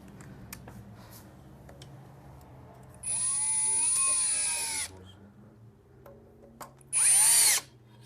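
A power drill spins an electric scooter wheel on a Begode Extreme K6, whining in a sustained high burst of about two seconds, then a shorter burst, over quiet background handling.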